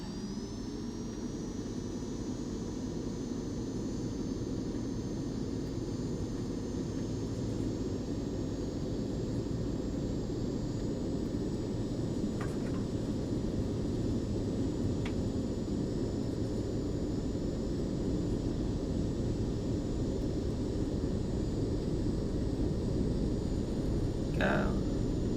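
Simulated Cessna Citation C525 CJ jet engines spooling up to takeoff thrust in a flight simulator game, a dense, constant roar with a rising high-pitched whine, loud and continuous throughout, with a couple of faint clicks.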